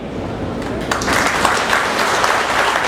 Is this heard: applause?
yes